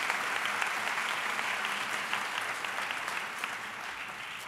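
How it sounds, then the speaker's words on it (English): A school district convocation audience claps in sustained, dense applause that fills the room evenly and fades slightly toward the end. "just give yourselves a round of applause"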